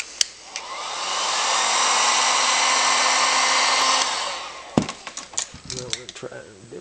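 A heat gun warms a plastic clamp on a Performance Pod air filter for a Honda 350 or 450, blowing a steady, loud whoosh for about four seconds before cutting off, followed by a few clicks and handling clatter.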